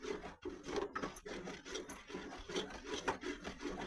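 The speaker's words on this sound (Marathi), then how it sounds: "गॅसवर ठेवायचं, त्याचं हलवत हलवत राहायचं" Kurdai batter stirred continuously in a pan over a gas flame, heard as a steady rhythmic scraping and rubbing of a spoon against the pan, close and fairly quiet, with no talk.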